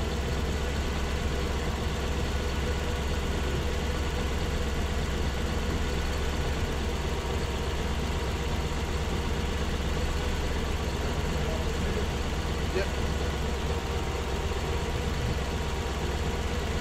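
A Toyota Hilux fitted with a 1UZ V8 engine runs with a continuous, even low rumble and steady mechanical hum, close and unchanging throughout, without speech.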